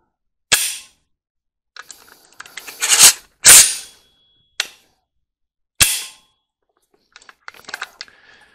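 Gun trigger mechanism clunking as the sear resets after the trigger is let out, a handful of sharp close metallic clicks and clunks spaced apart with quiet gaps between them.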